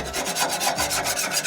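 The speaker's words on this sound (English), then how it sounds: "Scrape this side too right here." A wire scraper rasps repeatedly over stainless steel grill grates on a Coyote grill, a close, steady scraping rhythm of quick strokes with no talking.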